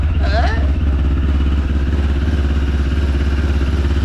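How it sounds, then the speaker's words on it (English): A motorcycle engine idles roughly at close range, a constant low throbbing hum with a faint rattle from a loose number plate; a voice speaks briefly near the start. "What's rattling? Oh, number plate."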